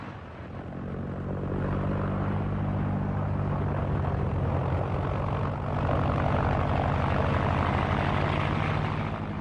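Three engines of a Junkers Ju 52 transport plane running together, a steady deep droning rumble with a throbbing propeller beat, loud and continuous throughout.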